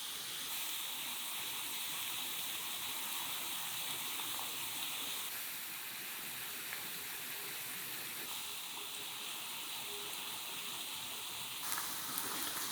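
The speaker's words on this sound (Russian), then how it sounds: "гриль сам понимает, насколько толстые куски мяса, и жарит стейки так," Thick steaks searing on a smart contact grill, giving a steady, even hiss and sizzle that runs without a break throughout, with no voices.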